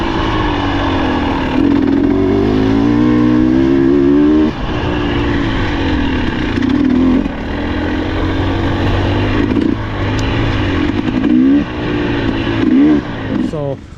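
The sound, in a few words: Husqvarna TE 300 two-stroke dirt bike trail riding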